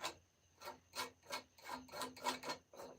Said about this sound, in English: So it's kind of like sanding and distressing.